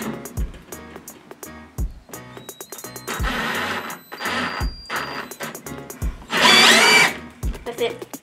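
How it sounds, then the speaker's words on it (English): A power drill pre-drills a hole through the metal of a furniture trolley being built into a billy cart, short whirring bursts between clicks and handling knocks, ending in one loud sustained run. "So we're going to pre-drill the other side of the hole."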